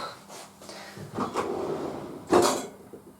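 Wooden drawers slide open and shut several times in a home while someone rummages through them, giving a few close, soft scraping thuds with a louder knock near the end, and no talk over them.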